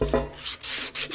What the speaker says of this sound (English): Get some sandpaper and just